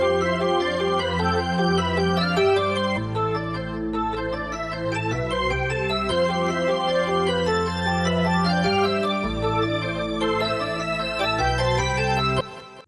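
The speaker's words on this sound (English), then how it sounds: "HQ organ sound." A Nexus synth lead organ patch, dry with no effects, plays a continuous loud melodic line over a steady bass pattern for about twelve seconds before stopping abruptly, with no voices.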